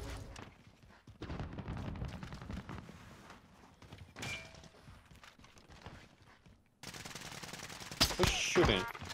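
Bursts of automatic gunfire in the battle royale game Warzone, a busy run of shots partly under excited talk, then a louder, closer volley near the end.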